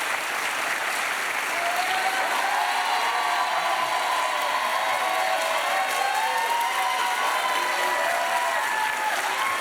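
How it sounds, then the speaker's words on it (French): Sustained studio audience applause on a French television comedy show, a dense, steady wash of many hands clapping at even loudness for the whole stretch, with faint voices and cheers threaded through. "voilà le public qui applaudit une tête en carton-pâte"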